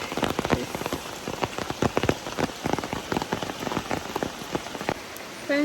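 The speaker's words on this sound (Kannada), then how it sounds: "ಮಳೆ ಬಂದುಂಟೆ ಉಂಡು" Steady rain pattering on a surface, with dense irregular drops and occasional louder splashes close by, continuing throughout with no one talking.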